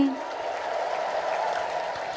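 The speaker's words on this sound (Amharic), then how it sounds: "ድንግል እልል ብላችሁ አመስግኑልኝ" Church congregation ululating and applauding at once, a sustained, even roar of trilling voices and hand claps, with a brief voice at the very start.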